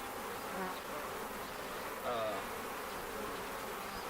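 A honey bee colony buzzes steadily and close during a hive split, a dense continuous drone of many wings with a slight swell midway, no talking over it.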